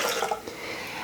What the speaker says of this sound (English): So I'm going to add water